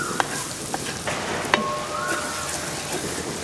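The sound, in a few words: sautéing ingredients in a pan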